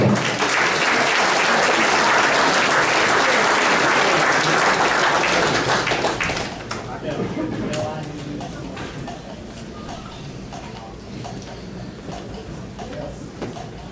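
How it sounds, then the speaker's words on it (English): Loud, dense applause from an audience at a racing hall of fame ceremony in Kansas City, honoring Jerry Stone, sustained for several seconds and then thinning and tapering into lighter scattered clapping. "How about another nice round of applause for Jerry Stone?"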